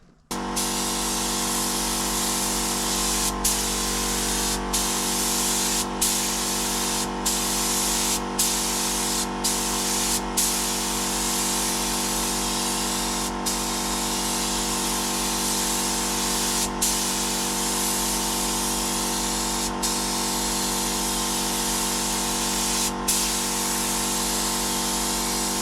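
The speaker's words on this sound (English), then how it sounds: "So first coat of clear is just like a tack coat, and then we'll go on second coat, heavy." Spray gun applying a tack coat of clear coat to aftermarket side skirts on a Nissan 300ZX twin turbo, a loud, steady, unbroken hiss held for the whole stretch with faint periodic clicks.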